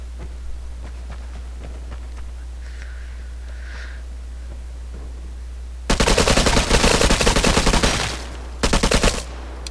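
Bursts of PM rack machine gun fire in the video game Vigor, a long loud volley followed by a shorter second burst after a quiet stretch with faint background noise.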